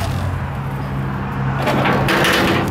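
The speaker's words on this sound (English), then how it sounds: "Door opens from the outside." A horse trailer door with a tack room creaks and scrapes open over a steady low hum, ending in a brief rattling clatter.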